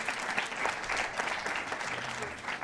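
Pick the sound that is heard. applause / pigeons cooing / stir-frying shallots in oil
applause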